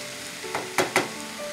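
Blanched spinach and sliced mushrooms sizzle in a hot pan as they are stirred, with a soft constant hiss and a couple of quick scraping bursts.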